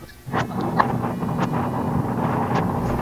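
An electric air conditioner in a car blows a steady, breathy rush of air, with faint clicks and light knocks scattered through it.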